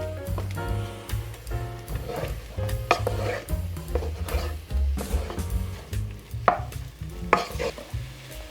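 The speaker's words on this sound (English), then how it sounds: "Put about a tablespoon of corn flour in. Give that a good stir." Beef pie filling, thickened with corn flour, is stirred in a pot with irregular scraping and clinking strokes over a soft sizzle, close and fairly loud throughout.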